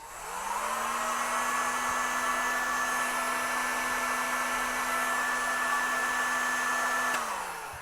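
A heat gun blows continuously at close range while reheating glue on heat shrink tubing for an antenna loop, a steady whining rush that spins up, holds level for several seconds and then winds down.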